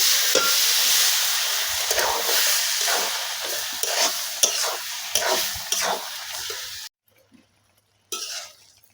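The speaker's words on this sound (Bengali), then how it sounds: "এখন আমি অল্প করে জল দেব।" Banana stem curry cooking in a pan, a loud bright sizzle with repeated stirring scrapes that cuts off abruptly near the end, then a brief return of hissing, no talking.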